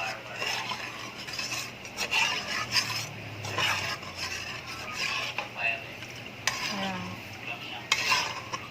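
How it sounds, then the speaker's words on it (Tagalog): A spoon stirs a corn jelly mixture with cornstarch in a pot, producing repeated close scraping and clinking strokes in an irregular rhythm, with brief speech at moments. "So i-mix lang natin siya ng maigi"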